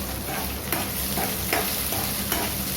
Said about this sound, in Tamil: சின்ன வெங்காயம் நல்லா வதங்குற வரைக்கும் கொஞ்சம் நல்லா வறுத்துக்கலாம்